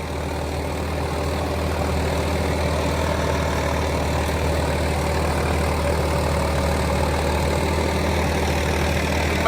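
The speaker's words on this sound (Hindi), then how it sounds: "1600 RPM पे चल रहा है रोटावेटर, ट्रैक्टर के 1600 RPM का रखे हैं।" A tractor held at 1600 RPM drives a rotavator under load, its engine a steady, loud, continuous diesel drone with low rumbling hum that never drops, alone without any voices.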